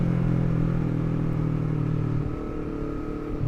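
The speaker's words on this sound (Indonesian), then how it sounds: "cek sound gua buat knalpot Villan MV2 carbon forged full system di Saber 250 RR" A Honda CBR250RR motorcycle fitted with a Villan MV2 carbon forged full-system exhaust idles and holds a steady revving drone, loud and close, easing slightly near the end, with no talk.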